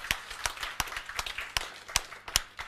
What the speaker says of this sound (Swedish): Så vi tackar dig med en applåd